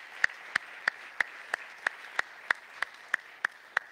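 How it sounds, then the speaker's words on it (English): Rhythmic hand clapping at a church service, about a dozen evenly spaced claps at a steady beat, fairly quiet and slightly distant, with no talk over it. "Let's all clap our hands to him right now."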